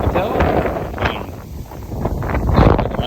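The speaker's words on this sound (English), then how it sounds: "Windy, as you can tell." Strong wind gusts buffet the microphone beside a widened river, a loud continuous roar that rises and falls, with a person speaking over it.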